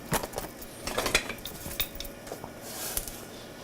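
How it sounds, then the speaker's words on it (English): Dry orzo pasta being tipped into a pot of boiling salted water in a kitchen, a run of scattered clinks and rattles against the metal pot with soft bubbling underneath, no talking. "I'm going to add a little bit of orzo"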